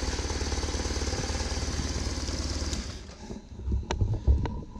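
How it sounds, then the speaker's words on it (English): A BMW motorcycle engine runs with a steady, loud, rough mechanical chatter. After about three seconds it drops into an uneven idle with clicks and knocks. "if I actually try to start the bike, same thing I did before. Bike starts right up."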